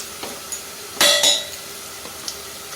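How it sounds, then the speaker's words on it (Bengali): Onion frying lightly in oil as asafoetida is added for a Bengali matar dal: a low steady sizzle with a bright hiss burst and clinks of a spoon against the pan, no talking. "হালকা ভাজতে হবে পেঁয়াজটা বেশি লাল করে না ভাজলেও হবে এবারে দিয়ে দেব হিং"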